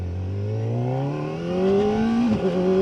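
A 2025 Kawasaki Ninja ZX-4RR engine while riding in second gear: a steady, loud, high-pitched four-cylinder drone that climbs in pitch as revs rise, with a brief dip near the end, no talking.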